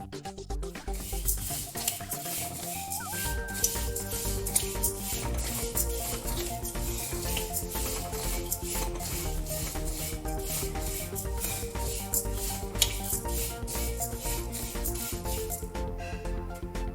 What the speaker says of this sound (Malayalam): ഇതെല്ലാം നമുക്കൊന്ന് ഓരോന്നായി വറുത്തെടുക്കാം.